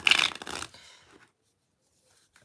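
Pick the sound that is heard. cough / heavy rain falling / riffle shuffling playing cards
riffle shuffling playing cards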